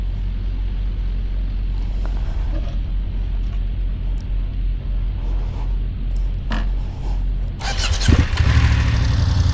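A motorcycle idles steadily up close during a slow-speed riding exercise, its low engine rumble holding even before revving up near the end as it pulls away from a stop.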